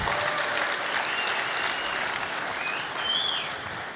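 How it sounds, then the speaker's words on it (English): Audience applause at a Google I/O 2013 keynote: a dense, steady wash of clapping from a large crowd, loud and sustained for the whole stretch, with no voices over it. "I love it when you clap"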